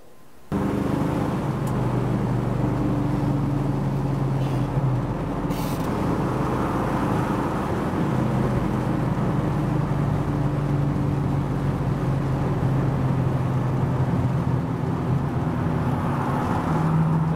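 Steady interior drone of a 1966 Ford Mustang Fastback cruising, with a constant low engine hum and road noise holding at moderate level throughout, with slight tonal shifts as the engine note varies.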